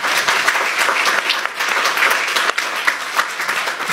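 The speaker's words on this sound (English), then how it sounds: "I think she deserves a round of applause." A live audience claps steadily and densely for about four seconds at a discussion event on traditional Igbo religion, a continuous wash of many hands with no pause or speech over it.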